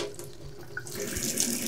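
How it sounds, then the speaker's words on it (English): Hot water running from a tap into a sink, a steady broadband rush that swells slightly louder toward the end, close and alone with no voices. "I'm gonna turn on the hot tap."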